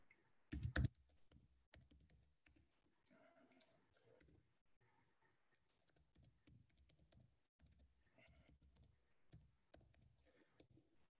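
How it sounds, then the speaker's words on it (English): Keystrokes on a computer keyboard clatter in quick irregular bursts, with one sharp loud clack near the start, then steady close typing with brief pauses. "let me just type this in"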